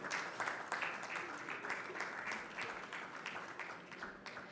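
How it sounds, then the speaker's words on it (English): A conference audience at an expo presentation session breaks into sustained applause, a dense, even patter of many hands clapping at a moderate distance. "A round of applause, ladies and gentlemen"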